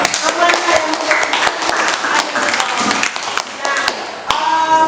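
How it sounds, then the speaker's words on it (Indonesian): A group claps in a quick, busy burst, the sharp claps loud and close, with some voices mixed in. "tepuk tangan untuk"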